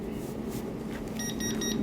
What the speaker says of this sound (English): When the time is over, you can hear the beep that the sublimation is ready now.